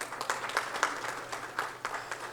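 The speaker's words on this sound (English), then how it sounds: "have a big round of applause for both the faculties" Applause from a small audience at a professional summit session at GIFT City, Gandhinagar, heard as scattered, fairly quiet claps with distinct individual hits rather than a dense roar.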